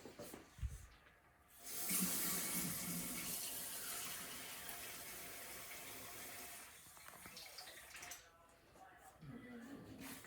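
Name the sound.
tap water running into a cup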